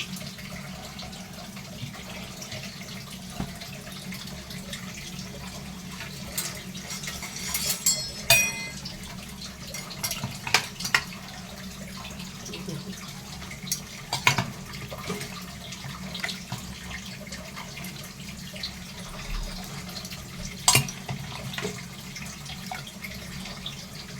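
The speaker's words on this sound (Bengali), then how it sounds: "এদিকে দেখুন আমার মাংসটা সেদ্ধ হয়ে গেছে, এটা আমি এই ঝুড়িতে ঢেলে নেব।" Boiled goat meat poured from a pot into a strainer basket, a steady wash of liquid running and splashing with occasional metallic clinks, moderately close and without voices.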